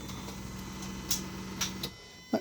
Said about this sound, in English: That clicking noise you heard was the VVT valve resetting.